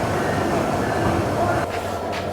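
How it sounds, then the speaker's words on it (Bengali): Sonar Bangla Express pulls into Chittagong railway station with a steady rumble of rolling carriages, heard from inside the train and easing slightly near the end. "আমাদের এই সোনার Bangla express train Chittagong railway স্টেশনে পৌঁছে গেল।"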